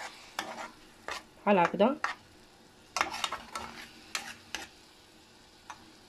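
A utensil stirs a shakshuka egg and tomato mixture in a frying pan, with irregular scraping strokes in short bursts over a soft sizzle. Someone speaks briefly.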